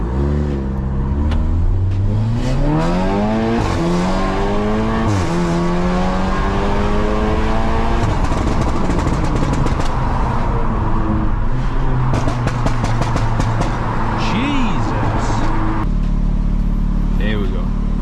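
A VW MK7.5 Golf R engine pulls hard while driving, its tone climbing through several rising sweeps as it accelerates and shifts. The sound is loud, close and continuous for the whole stretch.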